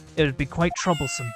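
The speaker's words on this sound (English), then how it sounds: "That was a cat meow." A brief cat meow from Phoenix Wright: Ace Attorney – Justice for All sounds close and clear, overlapping a man's spoken line.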